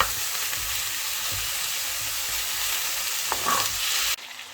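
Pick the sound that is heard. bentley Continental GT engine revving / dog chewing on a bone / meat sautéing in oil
meat sautéing in oil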